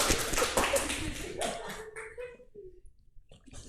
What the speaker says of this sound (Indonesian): Tepuk tangan buat Mas Naptan.